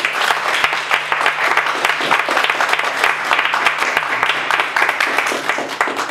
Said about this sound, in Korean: 다 같이 박수로 한번 시작해 봅시다